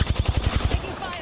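Rapid automatic gunfire in a battle-royale style shooter, about eight sharp shots in a steady burst, loud and close, then cutting off into quieter ambience.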